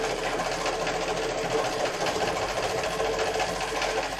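A sewing machine runs steadily while sewing seams in a home sewing session, a continuous close whirring hum that keeps going without a break.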